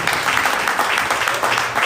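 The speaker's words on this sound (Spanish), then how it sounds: "Bríndele un fuerte aplauso al Señor" A church congregation applauding the Lord, dense loud clapping from many hands filling the room without a break.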